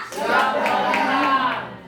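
Children clap their hands in a short burst during a classroom counting routine, several quick claps sounding close and bright, with a voice speaking over them.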